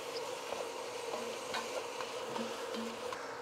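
Sausage browning in a pan for lasagna, with a quiet, steady sizzle and occasional light scrapes and taps from stirring.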